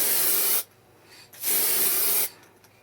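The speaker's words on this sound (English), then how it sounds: "spraying is very, very easy, although with an aerosol it's always worth just making sure that the aerosol's working properly" Aerosol lacquer sprays onto a guitar headstock over a decal in two steady bursts, each a loud, close hiss lasting under a second, separated by a short quiet pause.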